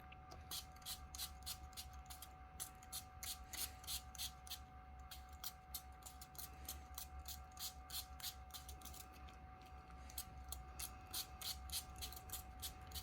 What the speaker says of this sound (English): And now I'm going to spray it with water.